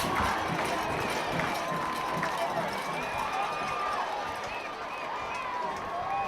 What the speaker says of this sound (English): This Mandeville crowd fired up.